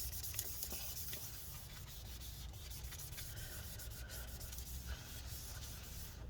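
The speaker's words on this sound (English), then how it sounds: "I'm going to switch over to a clean side again and wipe it up." Cloth wipes adhesive residue from the inside of a 13-inch Early 2015 Retina MacBook Pro A1502, a close, steady rubbing and scrubbing hiss with faint scratchy strokes, no speech.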